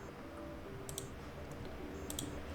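Two pairs of sharp computer mouse clicks, quick double taps spaced about a second apart, over a steady low hum with no talking.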